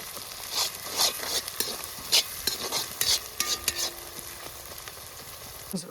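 Onions sauté with rock salt in a pan for pepper chicken, a close sizzle broken by repeated scrapes and knocks of a ladle stirring against the pan.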